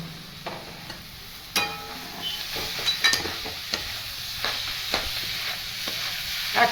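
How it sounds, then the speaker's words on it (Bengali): Drained cabbage stir-fried with spices crackles and sizzles in a pan, with sharp spatula scrapes and clinks at irregular intervals over a fairly loud, steady frying hiss. "বাঁধাকপিটাকে ভালো করে জল ঝরিয়ে নিয়েছি এটা দিয়ে দেবো এর উপরে অল্প অল্প দিয়ে নাড়বো"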